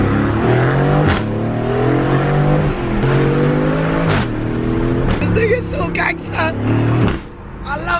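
An Aston Martin with an engine derived from the AMG GT pulls out of a driveway tunnel in Monaco, its loud engine revving in rising gear steps before fading, with short voices over the top.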